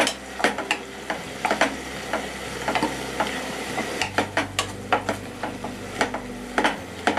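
Onion sautéing in a pan at home while a spoon stirs it in steady, regular scrapes over a constant low sizzle, close and alone with no talking.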